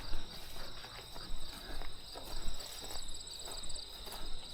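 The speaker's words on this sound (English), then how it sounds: "Listen to all these crickets." Crickets chirp steadily in a dense, high-pitched chorus on a Southern Ontario forest trail in summer, with soft footsteps crunching along beneath them.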